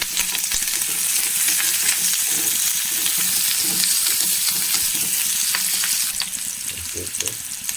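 Chopped shallots fry in coconut oil in a clay pot, a steady loud sizzle and crackle running throughout with occasional stirring scrapes, no voices.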